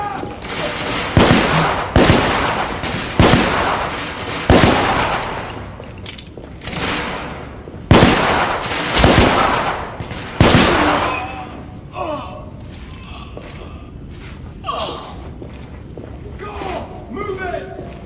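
Repeated loud bursts of gunfire in the video game The Order: 1886, heavy volleys in the first ten seconds followed by scattered lighter shots, with voices shouting over the shooting.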